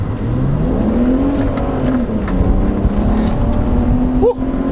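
A 2008 BMW E90 335i sedan with the N54 engine and stock exhaust revs loudly inside the cabin, its steady drone rising and falling in pitch for several seconds.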